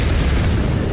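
A cannon blowing up in a video game makes a loud, deep roaring blast that fills the whole moment with heavy rumble and crackling debris, close and sustained without a break.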